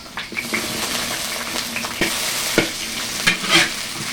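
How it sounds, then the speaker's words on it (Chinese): Scallion, ginger and pickled chilies sizzle steadily in hot oil in a wok, with a spatula scraping and clattering in irregular strokes close by; no voices. "放入葱姜、泡椒，炒出香味。"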